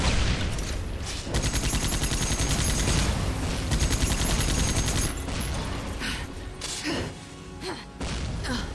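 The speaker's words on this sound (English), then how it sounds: "Lots of explosions here today, very loud." Dense, loud explosions and rapid gunfire in the shooter game Dreamkiller, an unbroken barrage of blasts and crashes with brief dips near the end.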